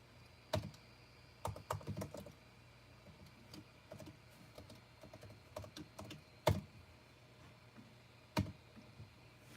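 Fingers type on a computer keyboard up close, with irregular runs of crisp key clicks and a few sharper, louder clacks spread over nearly ten seconds, with no voice.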